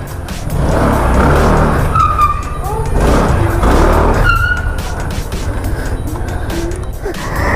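A Motorstar Easyride 150P scooter with an upgraded CVT accelerates nearby. Its engine whine climbs in pitch, drops away and climbs again over several seconds in loud, rising sweeps.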